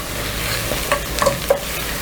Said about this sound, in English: Then I'm going to stir all this together